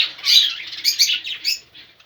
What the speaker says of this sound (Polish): No tu są ogólnie papugi.